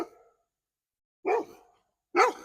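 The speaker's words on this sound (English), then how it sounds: "So that is my attack dog." A dog barks twice, loud and close, with a short pause between the barks and the tail end of an earlier bark at the very start.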